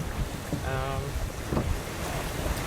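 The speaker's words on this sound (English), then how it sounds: "Wind's picking up" Wind buffets a racing sailboat out on the ocean, a steady rushing roar against the microphone with faint water sounds and a brief tonal whine beneath.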